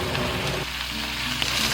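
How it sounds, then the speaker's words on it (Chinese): Large-head prawns drop into hot oil in a wok, pan-frying at medium heat, giving a steady loud sizzle and crackle that settles slightly after the first moment and continues throughout. "油温4成热，我们就可以下入这个大头虾哈"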